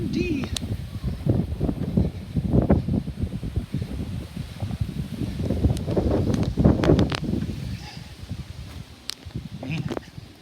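Wind blows across the microphone outdoors by a porch in gusty rumbling bursts, loud and close, with rustling throughout and a few sharp clicks.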